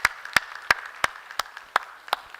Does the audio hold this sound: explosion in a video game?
no